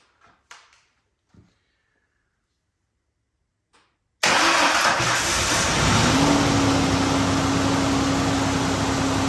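Ford 4.0 V6 engine running standalone, cranking into life after a few quiet clicks and then settling into a loud, steady idle with a faint whine, close by.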